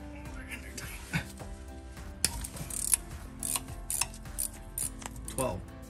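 A wrench works at the speed sensors on the rear hub assembly of a Q50 during a limited-slip differential install, giving repeated ratcheting clicks and metallic knocks at close range.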